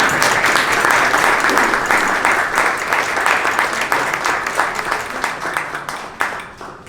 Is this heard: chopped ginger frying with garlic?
no